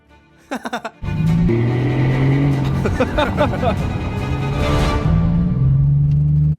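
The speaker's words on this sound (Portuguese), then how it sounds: "é a primeira vez que eu já dirigi um Rolls Royce Wraith" A damaged Rolls Royce Wraith car driving, heard as a steady loud engine drone with shifting tone after a few brief sputters at the start, and voices talking over it.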